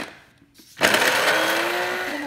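A mixer grinder whirs up after a quiet start, blending a piece of ginger and a large garlic bulb into paste, with a loud, steady motor drone close by.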